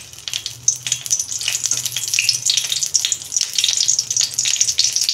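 A single bay leaf drops into hot oil in a wok while a fish and mixed-vegetable curry is being made, giving a steady close crackling sizzle with bright spitting pops throughout, no voices.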